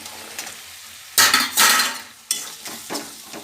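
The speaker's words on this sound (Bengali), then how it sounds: "নুন আর হলুদ মশলাটা কষিয়ে নিচ্ছি" Salt and turmeric spice masala is stir-fried in a pan, with loud sizzling bursts and scraping as a spoon stirs it, alongside occasional metal clinks, close and without talk.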